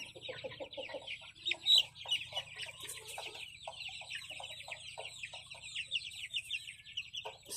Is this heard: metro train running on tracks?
no